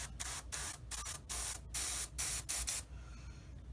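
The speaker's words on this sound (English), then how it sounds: "All right, and let's get spraying." Bursts of spray paint from a can hiss onto a Tamiya 1/35 M3A1 Scout Car model, about eight short, even blasts separated by brief pauses, close and loud, fading into a quieter hiss at the end.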